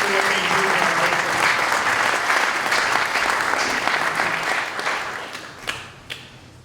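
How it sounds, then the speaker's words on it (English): Sustained, dense applause from an audience at an Armed Forces Day 2019 ceremony honoring veterans and officials, a full steady roar of clapping that gradually thins and fades toward the end. "If you would please join me in giving them a round of applause for what they do in our veterans."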